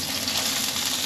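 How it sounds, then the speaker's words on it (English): Coral trout fries in a hot cast iron pan with a dense, continuous hiss that stays loud and even throughout, with no voices. "I usually cook this in my cast iron, that way you don't lose the heat as soon as you put the fish in."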